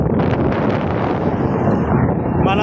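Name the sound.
wind blowing outdoors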